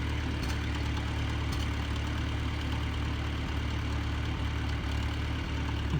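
A farm tractor's engine idles steadily near a cattle corral, giving a low, even diesel rumble with faint periodic knocks, close and unbroken for the whole stretch.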